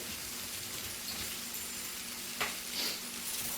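Onions frying in olive oil in a hot pan give a steady, close sizzle from start to finish, with a few brief clinks and stirring scrapes near the end.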